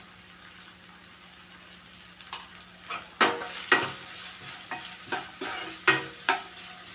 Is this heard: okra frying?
yes